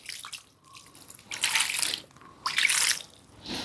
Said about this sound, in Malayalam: നമുക്ക് വെള്ളം തളിച്ച് കൊടുക്കാം